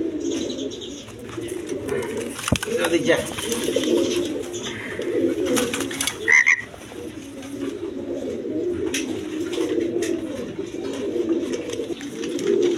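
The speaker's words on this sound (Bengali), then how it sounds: "এখানে এক পেয়ার রাজগোল্লা কবুতর আছে" A pair of Rajgolla pigeons coo continuously at close range, low rolling calls layered and overlapping, with a sharp click and a brief rustle partway through.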